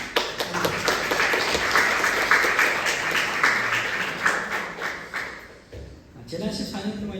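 A church congregation applauds together for about five seconds in a dense, sustained patter, then fades out before a voice resumes speaking in Korean.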